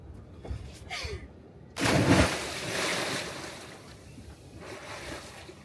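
Swimmers jump off a sailboat into the sea, one loud splash of water after a few brief sounds, then settling water and wind noise with no talk.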